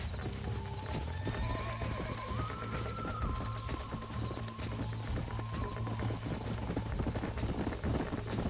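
Horse hooves clip-clopping in Red Dead Redemption on PS4, a steady rhythmic patter of hoofbeats under a sustained musical score with low drones and melodic lines.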